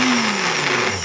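Kitchen blender running after its micro switch was replaced, a loud, close motor whine holding steady through the brief burst, its pitch sliding slightly downward.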